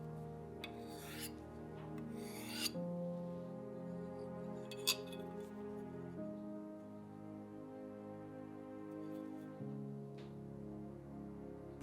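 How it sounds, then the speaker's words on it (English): Aluminum bronze knife edges being honed on a diamond sharpening steel, a soft dry rasping rub with a few brief scraping strokes and faint clinks, quiet and close. "The last step was to sharpen up the edges with a diamond sharpening steel"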